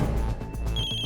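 Mobile phone ringing indoors in a quiet house, a short electronic ring tone with a steady high tone entering partway through, fairly close and heard alone.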